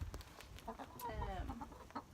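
Backyard chickens clucking inside a large coop with a fenced yard, several short warbling clucks close by over a low rumbling background.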